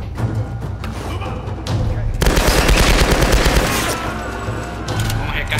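Rapid automatic AK-47 gunfire in Tomb Raider, a sustained loud burst of dense rattling shots in the middle after sporadic single reports, with game ambience and a voice talking.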